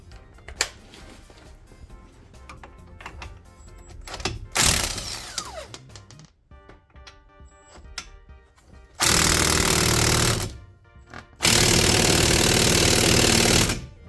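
A power tool works on the brake caliper of a 2014 Chevy Impala during a front wheel bearing hub repair, firing in two loud sustained bursts of a few seconds each, with shorter rattling and clanking between them.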